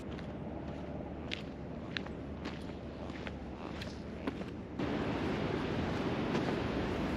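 Footsteps crunching along a path toward the beach on the Oregon coast at Cape Lookout in January, a handful of light steps over wind, then a louder steady wash of surf.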